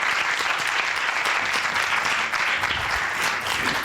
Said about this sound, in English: Now let's give it a round of applause.